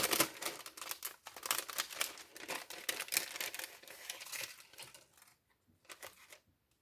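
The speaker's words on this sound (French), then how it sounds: "Je vais ouvrir avec vous le deuxième sachet." Plastic sachet of craft pieces for a keepsake-making kit torn open and handled up close, a dense run of crinkling and rustling with small clicks for about five seconds, then a short pause and a brief final rustle.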